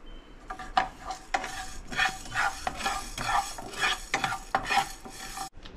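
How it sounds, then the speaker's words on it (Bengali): Spices dry roasting in a pan without oil over slow heat for samosa filling, heard as brisk, repeated close scraping strokes of a spatula with a faint crackle underneath. "এই দুটো শুকনো খোলায় একটু আমি সেঁকে নেব"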